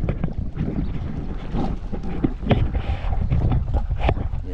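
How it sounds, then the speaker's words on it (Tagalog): Strong, gusty wind ahead of an approaching typhoon buffets the microphone in uneven, rushing bursts that rise and fall, close and loud, with no clear talk. "Yan ang hangin."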